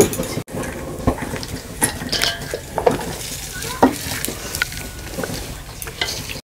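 Onion fries in hot oil with chilli and cumin while a utensil scrapes and stirs the pan, a steady sizzle broken by scattered metallic clinks near the microphone.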